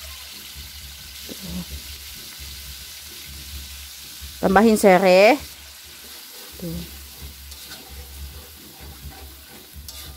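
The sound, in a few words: frying noodles in hot oil with spices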